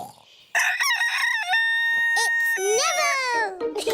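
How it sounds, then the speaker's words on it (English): A cartoon rooster named Neville gives a loud, drawn-out cock-a-doodle-doo at close range, its voice rising and then falling away, with a short clucking lead-in before the crow and further calls trailing after it. "Cock-a-doodle-doo!"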